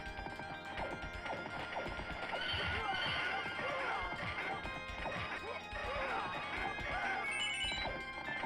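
Busy audio from the Neo-Geo/SNES game Knights of the Round, with galloping hoofbeats, horse whinnies and repeated smashing hits, loud and continuous throughout.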